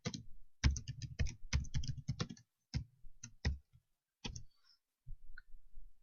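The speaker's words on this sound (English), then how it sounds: "So we'll just type in something nice and easy." Keys on a computer keyboard are tapped to type a short caption, a quick uneven burst of close, crisp clicks with brief pauses and a final few scattered taps.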